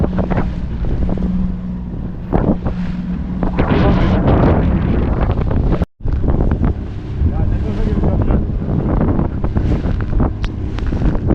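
Strong wind and sea waves surround a small fishing boat out on a choppy sea at sunset during bluefish fishing. Loud, continuous buffeting wind and water rush fill the scene, broken by one brief dropout midway.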